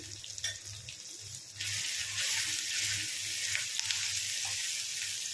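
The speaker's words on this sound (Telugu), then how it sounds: "అల్లం వెల్లుల్లి బాగా వేగిపోయింది" Ginger garlic paste and turmeric frying in oil for a chikkudukaya tomato curry, a steady close sizzle that swells louder after a second and a half and holds, with a faint low hum beneath and no talking.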